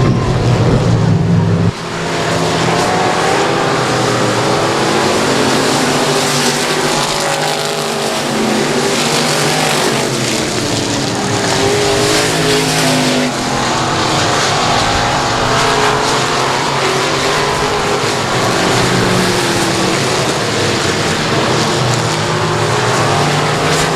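Hobby stock race cars roar around the Texarkana 67 Speedway oval during the main event, a loud, continuous engine drone with rising and falling pitch as the pack circles, steady for the whole stretch after a brief quieter opening.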